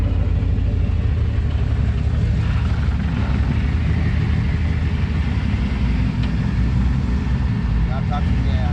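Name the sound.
Ford F350 460 big block EFI engine idling at 900 RPM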